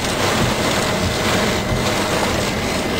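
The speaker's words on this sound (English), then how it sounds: "Yeah, it's pouring now." Heavy rain pours down during a storm in eastern Iowa, a loud continuous broadband roar that stays steady throughout, with some wind buffeting and no talking.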